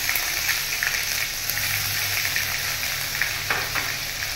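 Ginger, cumin and coriander leaves frying in hot oil, a steady close sizzle with faint stirring scrapes and no talk.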